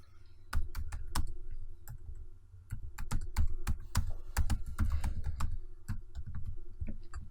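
Close, brisk typing on a computer keyboard while entering a Java System.out statement, a dense run of sharp key clacks in uneven bursts with a short pause early on.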